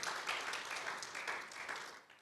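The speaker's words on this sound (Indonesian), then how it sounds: "Tepuk tangan yang panjang bagi Tuhan." Long, sustained applause from a church congregation at a Sunday service, a steady dense wash of many hands clapping at moderate distance with no talk over it.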